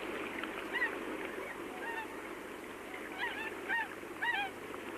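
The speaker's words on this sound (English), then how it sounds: "The Buick swans have come to the end of their long flight from Siberia." Bewick's swans on a lake after their long migration, giving soft bugling honks in several short bursts over a steady background of wind and water, moderately distant.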